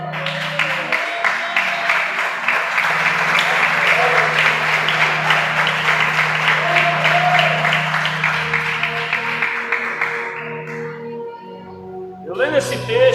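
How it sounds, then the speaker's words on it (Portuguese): A church congregation claps loudly and continuously for Jesus, a full sustained applause that fades near the end, with a held musical tone underneath and voices and sounds returning at the close. "bate a salva de palmas bem forte para Jesus"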